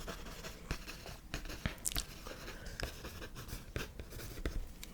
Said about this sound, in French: Ouais, je vais l'écrire.